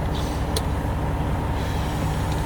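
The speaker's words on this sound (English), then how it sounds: "I should have probably shut my truck off." A truck engine runs at idle nearby, a steady loud low drone that fills the whole stretch, with a brief faint click over it.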